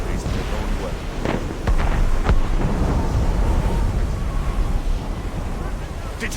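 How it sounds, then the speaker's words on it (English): Muffled cannon fire booming deep within fog in the Assassin's Creed Rogue video game, a few dull distant thuds rolling over steady wind-and-sea rumble. "Did you hear that? Cannon fire. Deep within the fog."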